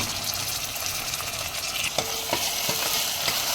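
Finely chopped medium tomatoes and pink-fried onion sauté in a pan for a mutton curry, a constant sizzle joined in the second half by several distinct spatula scrapes and knocks against the pan.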